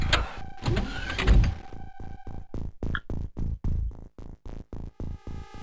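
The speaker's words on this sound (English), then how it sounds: "The door opening." A sliding sci-fi door opens in the UFO: Enemy Unknown video game, with a whirring mechanical rush followed by a series of rhythmic clunking pulses that slow and fade, loud and alone.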